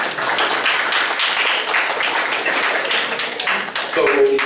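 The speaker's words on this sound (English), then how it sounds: "You all deserve to give yourselves a round of applause." A crowd at a city council candidate forum gives a sustained round of applause, a dense wash of clapping with voices mixed in.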